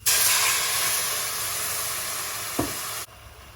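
White wine poured onto hot risotto rice in a pan gives a loud, close, steady hiss and sizzle that fades slightly, with a brief clink near the end before cutting out.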